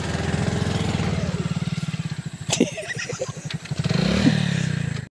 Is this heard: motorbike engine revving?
yes